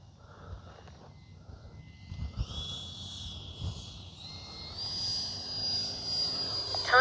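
A small 80mm electric ducted-fan RC jet, a Freewing F-22 Raptor, whines faintly in the distance, its pitch climbing and swelling as it passes overhead, with no talking.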